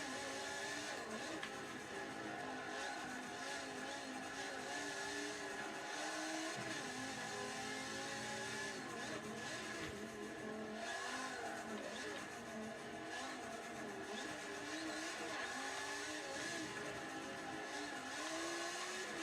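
Race car engine in the Forza 7 racing game, droning steadily through a track lap with shifting pitch as it revs up and down, continuous and fairly even in level, with faint hints of talk in the background.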